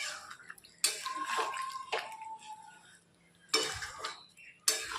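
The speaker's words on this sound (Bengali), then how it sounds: "বারে বারে নেড়ে নেড়ে চিকেনটা অনেকক্ষণ ধরে কষিয়ে নেবো" Chicken and potatoes being stirred in a cooking pan, with intermittent scraping and clattering bursts of a spoon against the pan, separated by quieter gaps.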